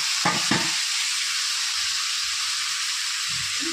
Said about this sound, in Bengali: কড়াইতে তেল দিয়ে দিলাম। এখন যে মোচাগুলো ওগুলো ভেজে নেব।